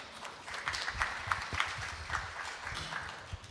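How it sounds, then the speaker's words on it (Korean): Audience applause after a speaker is introduced at a Korean book launch event about the May 18 Democratic Uprising, moderately loud scattered clapping that holds steady for several seconds with no voices. "박수 부탁드립니다."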